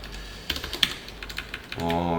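Keys tapped in short, irregular bursts on a computer keyboard while code is typed for a CSS media-query lesson; the clicks are close and fairly faint. A steady tone enters near the end.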